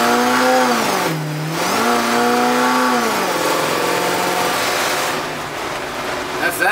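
Grumman Kurbmaster step van engine revving as it drives, a mid-pitched motor rising and falling in pitch a few times, close and fairly loud, easing off toward the end.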